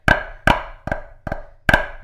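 Uneven drum double stops: five sharp, close strikes with irregular spacing and varying loudness, some hits noticeably softer than others, with nothing else audible.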